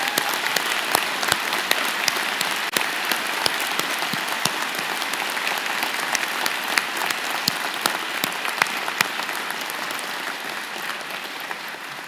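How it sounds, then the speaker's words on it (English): Audience at a university law and public policy spring convocation applauding vigorously, a dense, steady round of clapping sustained throughout that tapers slightly near the end. "join me and the platform party in thanking them with a vigorous round of applause."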